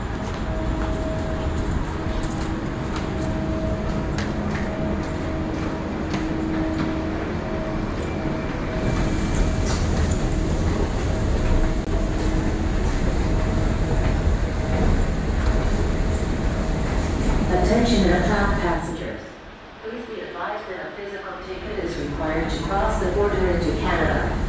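Trains rumble and clatter in Manhattan's Penn Station under a booming public-address announcement, and the noise drops sharply near the end before the station hubbub returns.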